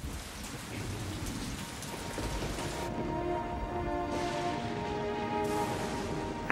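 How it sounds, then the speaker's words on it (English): Steady heavy rain in a cartoon thunderstorm, a dense continuous downpour with low rumbling thunder rolling underneath, loud and unbroken throughout. "I wish this thunder would stop."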